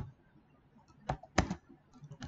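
Keystrokes on a computer keyboard while entering a word into a search box in business software: a few sharp, separate clicks spaced irregularly, close and fairly quiet, with no talking.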